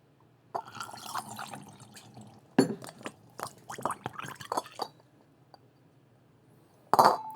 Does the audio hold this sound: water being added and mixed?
yes